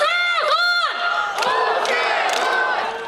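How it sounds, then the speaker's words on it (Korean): A campaign rally crowd in Yeongdeungpo, Seoul, chants mayoral candidate Oh Se-hoon's name in loud repeated shouts, rhythmic bursts of massed voices followed by ongoing cheering. "여러분 오세훈을 외쳐주시기 바랍니다"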